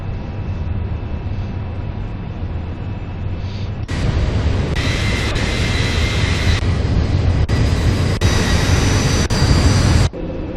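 Airliner departing Tel Aviv's Ben Gurion airport, a loud continuous jet engine roar during takeoff and climb, swelling partway through with broadband rush and whining tones, no talk.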